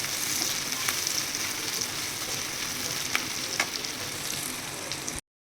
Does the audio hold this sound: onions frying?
yes